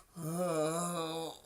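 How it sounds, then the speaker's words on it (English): A person snores in one long, steady, droning breath that lasts over a second and is heard up close, with no talking over it. "You're snoring."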